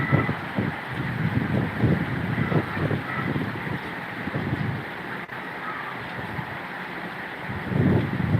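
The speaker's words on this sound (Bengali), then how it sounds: "বৃষ্টি অনেক জোরে নামছে" Heavy rain falls during a thunderstorm with strong wind, a dense, continuous roar with gusty low rumbling surges, close and steady throughout.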